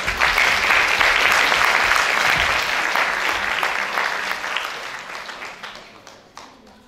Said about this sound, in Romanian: Haideți să-i întâmpinăm cu aplauze!